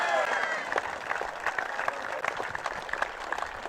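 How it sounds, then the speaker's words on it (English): Applause for the St Andrews rowing crew at a regatta finals presentation: steady dense clapping from a crowd, fairly close, with a few murmuring voices underneath. "Big round of applause for St Andrews."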